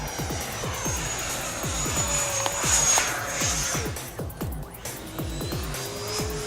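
Freewing EF2000 Typhoon 90mm electric ducted-fan RC jet performing a hard flip into a stalled flat spin, its fan whine rising and falling steadily with a pulsing, warbling roar at moderate distance.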